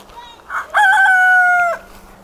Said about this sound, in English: my Bantam Frizzle rooster